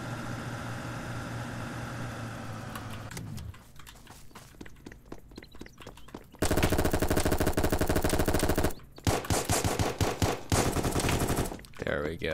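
Automatic gunfire in the Roblox game Apocalypse Rising 2, with a steady stretch of rapid machine-gun shots followed by several loud, sustained bursts broken by short pauses, close and dominant throughout.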